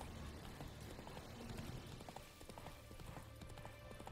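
Geralt's horse Roach trots along in The Witcher 3, a steady clip-clop of hooves, faint and somewhat distant under a dense wash of ambient game sound.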